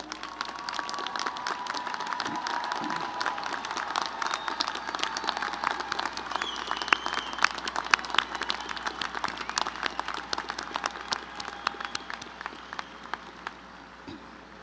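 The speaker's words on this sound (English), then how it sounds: "we ask you to please stand for a well-deserved round of applause" Sustained applause from a standing commencement audience honoring families at a university graduation ceremony, dense steady clapping from a large crowd in a hall, continuing without pause and tapering slightly near the end.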